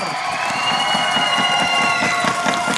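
Crowd on a televised school quiz competition cheers and claps for the SD Budi Mulya Bogor team, steady shouting voices over a continuous patter of applause.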